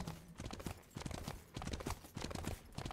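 Horse hooves clip-clop in steady, quick rhythm from the mount in the video game Smite, a close and moderately loud galloping beat that runs through the whole stretch with no talking.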